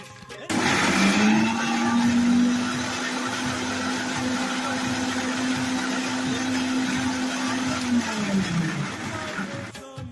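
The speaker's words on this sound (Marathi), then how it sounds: "आता आपण त्याला वाटून घेऊया मिक्सरमध्ये" A mixer grinder whirs as it grinds cooled sautéed onion and tomato into paste, a loud steady motor drone starting abruptly, running for several seconds, then winding down and stopping.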